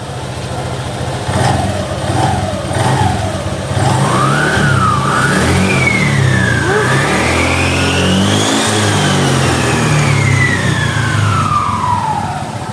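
Motorcycle engine revved hard after a CVT service, rising and falling through repeated throttle blips into a long, loud climbing rev that slowly winds down, heard up close with no talk.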